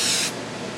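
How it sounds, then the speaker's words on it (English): A single short, loud hiss of brake cleaner sprayed from a can onto oily steel, close up, cutting off abruptly and leaving a faint background hum. "So I'm going to hit this with some brake clean real quick."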